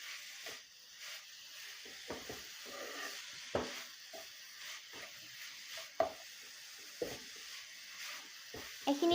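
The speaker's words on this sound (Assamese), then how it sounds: "ভালকৈ ভাজিম" Bihu pitha frying in a pan, giving a soft, steady sizzling hiss with faint scattered ticks and scrapes; the sound is quiet and close, with no one talking.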